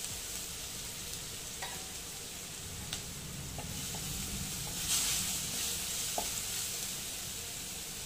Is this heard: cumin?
yes